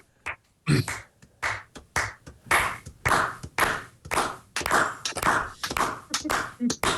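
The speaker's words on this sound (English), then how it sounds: "let's just see if we can clap along together" A group claps along together in rough rhythm, a steady series of sharp hand claps running through most of the stretch after a quiet start, with some talk mixed in beneath.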